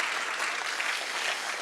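Steady applause from an audience at a pitch event, a dense unbroken wash of clapping held at an even level for the whole short stretch with no voices on top.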